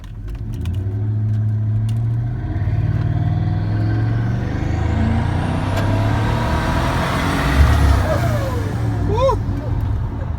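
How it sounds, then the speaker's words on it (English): Twin-turbo gasoline Chevrolet Silverado pickup with a 3000–3200 stall converter accelerating on the road, a steady loud engine drone rising in pitch as it pulls, with a faint turbo whistle near the end and a person speaking over it. "So I've never driven a turbo gasoline engine before,"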